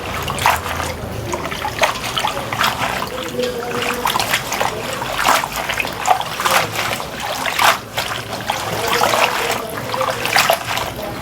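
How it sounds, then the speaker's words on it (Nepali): Molokhia greens being rinsed by hand in a pot of water in a home kitchen, with close, steady splashing, trickling and sloshing that continues for several seconds without a pause. "यो हेर्नुस्, अब म पखाल्छु यो सागलाई"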